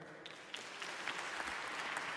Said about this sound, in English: can I hear you guys clap over here?